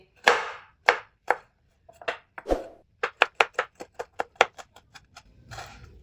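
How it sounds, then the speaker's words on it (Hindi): A knife chopping tomatoes into small pieces on a board: a few spaced, crisp strikes, then a quick even run of sharp close chops that slows and ends in a softer scrape. "इसके आपने बड़े पीस नहीं करने, छोटे छोटे पीस इसके करेंगे टमाटर के"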